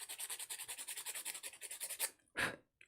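A drawing tool's worn needle point is rubbed on sandpaper to restore the tip: quick, even back-and-forth scratchy strokes repeating for about two seconds, soft and close, followed by one longer rasping stroke after a short pause.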